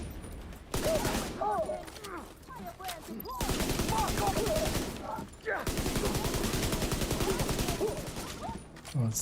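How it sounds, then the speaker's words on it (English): Sustained gunfire in The Division during a solo PvE fight against hostile combatants, dense bursts and volleys running almost continuously with brief lulls, loud and close, mixed with game voices and effects. "Oh, that was some shooting on my part."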